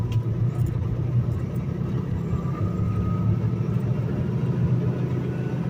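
A semi truck drives along a road after a stormy night, with a constant low engine rumble and road roar heard from inside the cab, steady and fairly loud throughout.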